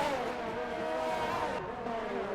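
A race car at steady high revs on the Monaco circuit in a racing game, a loud continuous engine whine with a slight pitch drop near the end, no voices over it.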